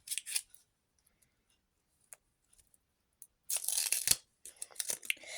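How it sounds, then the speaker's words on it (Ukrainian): A tiny paper packet is torn and crinkled open in a few short bursts of crisp rustling and tearing, separated by quiet pauses. "Тепер його треба якось відкрити."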